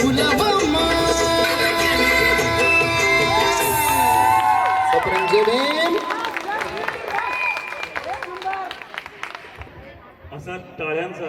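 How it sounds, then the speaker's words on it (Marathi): Loud crowd applause and cheering erupt after a devotional Bhim song at an evening community program, with sustained clapping and shouts that fade gradually toward the end as voices speak over the thinning applause. "असा टाळ्यांचा जय जयकार आणि गजर"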